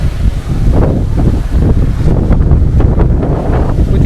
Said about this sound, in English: the beach on a January misty, windy, drizzly afternoon